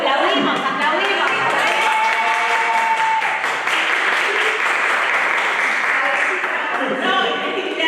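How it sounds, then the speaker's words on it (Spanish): Audience applause fills an event hall at a national circus gathering, a dense, steady wash of clapping mixed with crowd chatter and a few voices calling out over it throughout. "Aplaudimos, aplaudimos."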